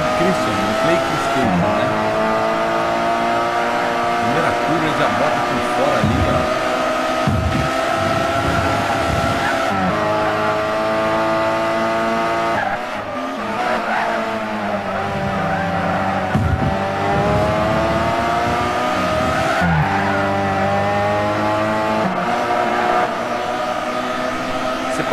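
Race cars roar around a circuit in a car race, engines droning and tyres squealing continuously at the limit, under steady excited commentary.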